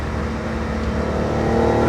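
A 1967 Fiat Dino Spider 2.0 runs steadily under load from the passenger seat while shifting up through the gears, a close droning engine note building slightly in loudness, no talking.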